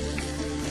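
Vegetables sizzle steadily in hot butter in a pan, a constant, even frying hiss without pauses, fairly close and clear, with no talking over it.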